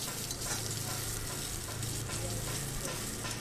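Onion, dried red chilli and five-spice sizzle steadily in a hot wok while being stirred, a continuous close frying crackle with no talk, as greens and aubergine wait to be added.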